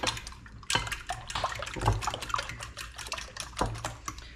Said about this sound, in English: Whisk that with a fork.